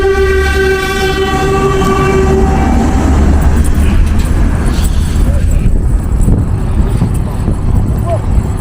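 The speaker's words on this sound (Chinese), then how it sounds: "火车到这里哦" A train rumbles past close by with a long, loud horn blast at the start, steady heavy rolling noise throughout, and voices talking underneath.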